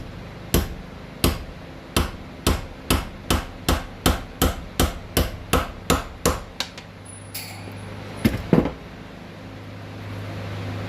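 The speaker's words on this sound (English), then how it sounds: "same hammer as what we used in the other video" A hammer drives down onto the spine of a B3 2.0 knife, forcing its blade through a nail: about fifteen loud, evenly spaced metallic strikes, followed by a brief clatter and a low hum afterward.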